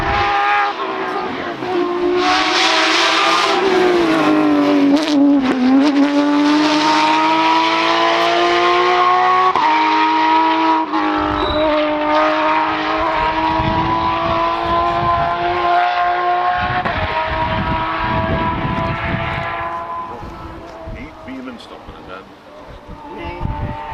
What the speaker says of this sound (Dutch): Dat is een Porsche.